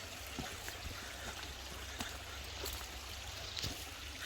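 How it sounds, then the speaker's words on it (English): Creek water flowing at a hiking creek crossing, a faint, steady rush with low rumble and occasional soft splashes or ticks, continuous throughout and fairly distant. "Creek crossing."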